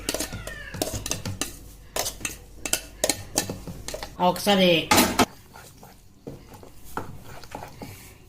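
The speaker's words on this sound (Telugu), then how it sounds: "ఈ మసాలాకి ఇందాక మిక్సీ పట్టుకున్నది ఉలువ మొలకలది మిక్స్ చేద్దామండి" Metal spoon scraping and clanking in a pot as ground horse gram sprout paste is stirred into masala, with irregular close clatters and a brief loud burst midway.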